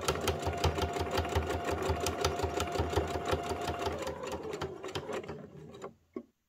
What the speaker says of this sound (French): je vais venir surpiquer à quelques millimètres du bord sur toutes les faces